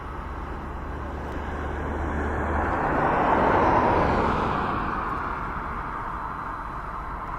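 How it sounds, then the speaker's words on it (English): An aircraft at East Midlands Airport passes at a distance, a broad roar that swells to a peak midway and then slowly fades, heard alone without talk. "She can see the aircraft."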